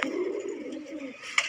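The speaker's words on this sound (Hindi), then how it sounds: "सिर्फ गैस कबूतर के वॉइस चेक करो," A pigeon in India coos softly up close, a low rolling warble lasting about a second, followed by a faint chirp.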